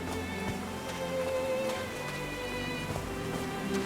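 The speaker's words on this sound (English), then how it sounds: "These drops of rain are so refreshing." Steady rain falls on a mountaintop in the video game Call of the Sea, a dense continuous patter close around with a faint tonal background and no talking.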